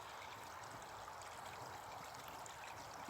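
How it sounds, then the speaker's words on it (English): A small stream trickles steadily in the open on a freezing evening, a faint, even wash of water with no talk. "The sound of water trickling"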